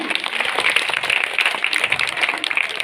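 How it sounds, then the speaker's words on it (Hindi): An audience at a commemoration honouring Savitribai Phule applauds loudly, with dense, continuous clapping from many hands throughout. "जोरदार तालियां बजा दीजिए"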